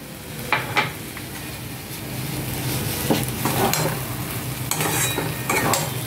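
Food frying in ghee sizzles steadily and close up while a utensil stirs it, with intermittent scrapes and clinks against the pan.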